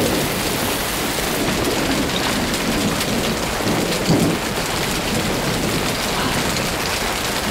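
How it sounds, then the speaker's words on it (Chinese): Rain pours steadily with rolling thunder in an outdoor city setting, a dense loud hiss of downpour spattering on surfaces, with a low rumble swelling briefly near the middle. "下雨了， 咱们去那边。"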